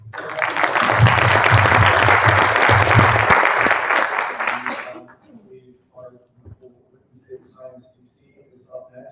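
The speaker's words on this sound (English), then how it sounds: "Well, that's our applause" An audience at a data visualization lightning talk night claps loudly and steadily for about five seconds, then the clapping stops abruptly and a few spoken words follow in a quiet room.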